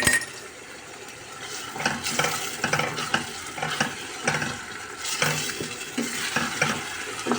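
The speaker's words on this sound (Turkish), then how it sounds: "Domateslerimle de 2-3 dakika kavruldu soğanlarım" Onions sautéing with tomatoes in a pan, a steady close sizzle broken by repeated scrapes and stirs of a utensil against the pan, with no talking.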